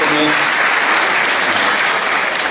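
Loud, dense applause from a political-talk audience rolls on steadily throughout, with no voices rising above it.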